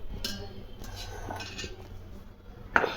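Dishes waiting to be washed in a home kitchen give off a few faint clinks and clatters. One sharper clink near the end stands out over a low room background, and no one speaks.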